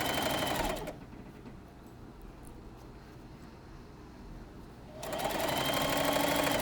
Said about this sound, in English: Sew a straight stitch down the side of your bag.